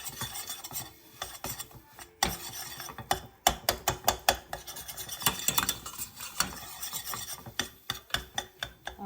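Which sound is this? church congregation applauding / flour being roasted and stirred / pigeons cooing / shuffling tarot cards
flour being roasted and stirred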